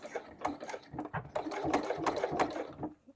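A sewing machine stitches binding onto waterproof canvas, its motor running in steady bursts of rapid needle clatter with brief slowdowns, close and fairly loud with no talking.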